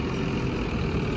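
A Sonalika 750 III tractor engine fitted with a homemade turbo runs steadily, a loud, dense low rumble with a constant drone and no pauses or voices.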